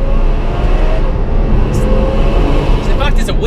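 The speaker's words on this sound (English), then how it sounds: "Okay, we're in fourth, I'm downshifting there." Ferrari F12 V12 engine downshifting from fourth gear, a steady loud drone with wind rush and a brief rising blip near the end.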